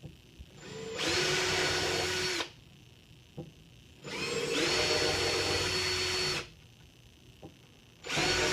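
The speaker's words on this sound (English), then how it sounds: "I'm going to drill the pilot holes." A power drill with a 5/64 bit whirs in three sustained bursts of about one and a half to two seconds each, drilling pilot holes, separated by short quiet pauses with faint clicks.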